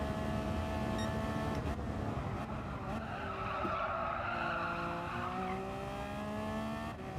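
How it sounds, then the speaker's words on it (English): Race car tyres squeal and slide on track in Gran Turismo 7, a loud, sustained skidding whine with wavering pitch over steady engine roar, unbroken by speech. "These tyres are starting to slide a little bit now."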